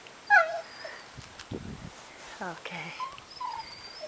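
Dog whimpering and yipping during a forest walk in Norway, a few high thin whines close by, with a person speaking briefly and soft outdoor background.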